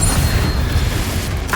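A Confringo spell explosion in Hogwarts Legacy, a short loud booming blast with a low rumble that fills the whole brief moment.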